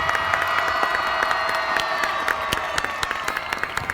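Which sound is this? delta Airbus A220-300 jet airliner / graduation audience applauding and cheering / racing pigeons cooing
graduation audience applauding and cheering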